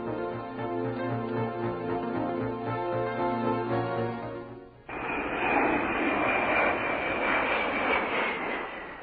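A Tu-154 airliner used as a flying laboratory drones steadily with a loud, even engine tone, shifting partway through into a broader, rushing jet roar that continues to the end.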